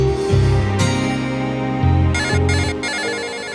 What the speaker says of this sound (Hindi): अबे ये तो अननोन नंबर है।